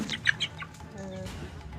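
A chicken with extra legs clucks on a farm in Thailand, a few soft high clucks near the start, then fainter calls over low farmyard background noise.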